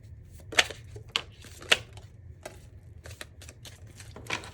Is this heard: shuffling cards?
yes